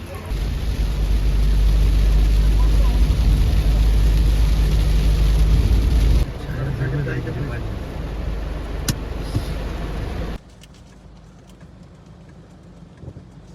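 A car drives off in heavy rain, its engine rumbling loudly at first and then easing to a softer steady hum as rain patters throughout.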